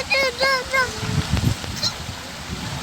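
A few loud honking quacks from waterfowl close by, followed by background chatter and outdoor noise.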